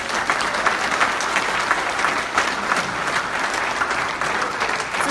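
Church congregation applauding during a sermon, a dense, steady clapping that fills the room evenly from start to finish, fairly loud, with no voices standing out.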